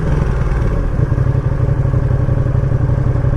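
A 2020 Ducati Panigale V2, freshly run in, rumbles loudly and close with a steady, throbbing low engine note, holding an even idle-like pulse as the bike pulls up.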